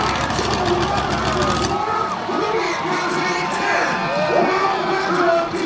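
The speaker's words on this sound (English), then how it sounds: "Tim MISSENTZIS coming out to the cheers of the crowd" A large crowd cheers and roars at an outdoor monster truck freestyle show at Lake Erie Speedway, with a deep engine drone at first, then sustained shouting and whistles as an announcer talks over the noise.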